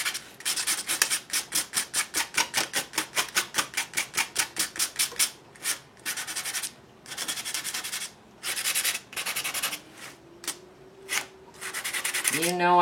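Sandpaper rubbed by hand over a surface in a crisscross pattern: a fast run of rhythmic back-and-forth scratchy strokes, then slower separate bursts with pauses, close and fairly loud.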